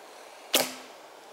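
A single sharp thwack of an ILF longbow with a VPA Vapor 13-inch riser and Dryad limbs releasing an arrow, a quick loud snap with a short ringing tail, otherwise near silence.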